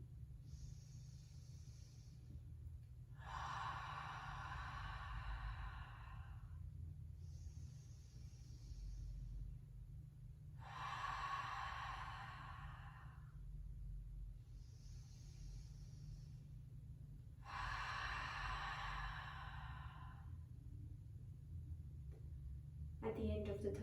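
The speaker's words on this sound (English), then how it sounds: "Let's take 3 long breaths, inhaling through the nose and exhaling through the mouth." Three long, slow breaths during a yoga session, each a drawn-out airy inhale through the nose followed by a longer exhale through the mouth, close and soft over a low steady hum, with pauses between them.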